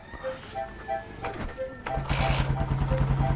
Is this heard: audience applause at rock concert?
no